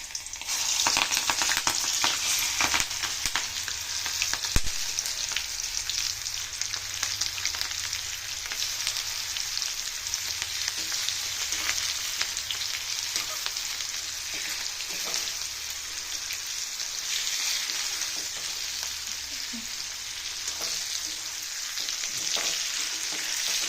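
Cut chilli bajji fry in hot oil, a dense, continuous bubbling sizzle heard up close, with occasional stirring clicks and no talking.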